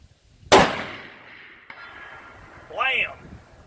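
A single sharp, loud rifle shot from a Ruger American Predator in 6.5 Creedmoor fired outdoors, followed by a faint ringing tone and a distant impact sound about two seconds later.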